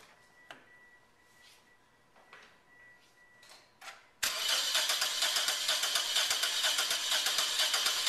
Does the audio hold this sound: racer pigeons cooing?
no